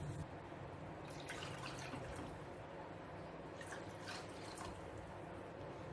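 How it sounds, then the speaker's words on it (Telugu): Water is poured into a pan while poha payasam is being made, a soft continuous splashing and trickle that stays steady and fairly quiet throughout. "అరకప్పు నీళ్లు వేసుకుందాము."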